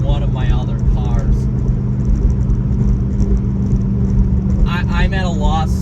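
A 2005 Corvette C6 is driven fast through corners, its engine a steady low rumble with road noise close inside the cabin, while someone talks over it at intervals.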